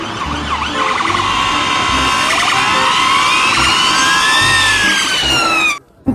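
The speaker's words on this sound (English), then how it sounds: "This is a police car." A toy police car siren wails loudly and steadily, rising and falling in continuous sweeps for about six seconds before cutting off abruptly near the end.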